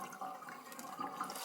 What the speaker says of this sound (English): What I will be doing is rinsing and washing my rice.